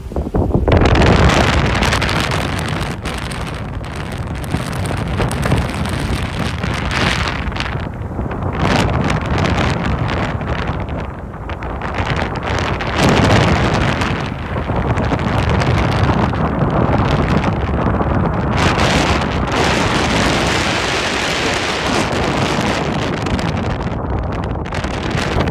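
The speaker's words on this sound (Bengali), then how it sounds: "সমুদ্রে বাতাসের গর্জন যে শুনতে কিরকম লাগে আপনাদেরকে একটু সরাসরি শোনাই" Strong wind roars at the seaside, battering the microphone with loud, continuous buffeting gusts that swell and ease without pause, with a hint of waves beneath.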